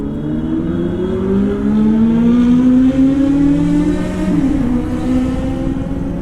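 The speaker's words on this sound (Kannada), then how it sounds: "ಎಷ್ಟು ಲೌಡ್ ಅದಾವ ನೋಡ್ರಿ ಗಾಡಿ." A Kawasaki Z900 motorcycle engine revs loudly and close by, its droning tone rising and holding before dipping briefly and steadying again.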